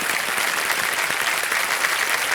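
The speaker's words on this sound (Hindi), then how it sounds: "तालियों के साथ इनका हम अभिनंदन करते हैं।" Studio audience applauding a contestant on the Hindi quiz show Kaun Banega Crorepati, Season 14; dense, steady clapping from a large crowd fills the whole stretch at close range with no talk over it.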